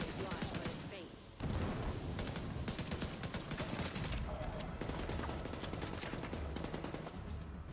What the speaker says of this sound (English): Strategically speaking, I'm gonna shoot this guy first.